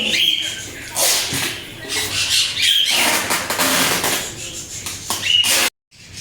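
Cockatiels flap their wings in repeated bursts with sharp squawks and squeaks at a bird farm, close and loud, over steady background noise, ending in a brief silence.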